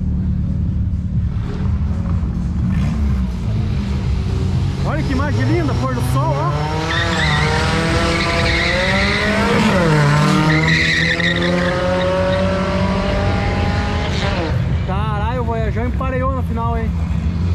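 A car doing a burnout at a short drag strip, with a loud, continuous engine rumble and sustained tire squeal and skidding close by, and voices faintly underneath.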